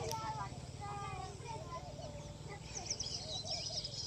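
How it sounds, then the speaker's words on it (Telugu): Birds chirp and call softly at a distance in a misty village morning, thin twittering scattered over a low steady background hum, with a few brighter calls toward the end. "ఆ బర్డ్స్ సౌండ్,"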